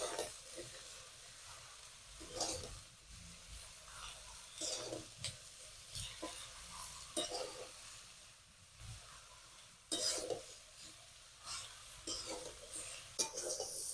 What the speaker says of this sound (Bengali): ভালো করে নাড়াচাড়া করে একটু মিশিয়ে নিচ্ছি।